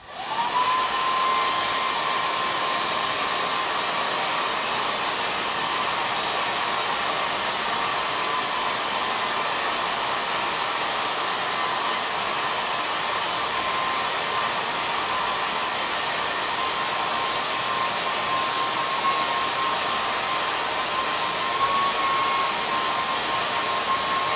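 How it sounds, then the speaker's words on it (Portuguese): A hair dryer blows steadily for a long stretch, held a little away to dry watercolor paint on fabric, its loud, even whoosh carrying a faint whine and no talking. "Vou pegar aqui o secador de novo. Eu vou secar um pouquinho distante."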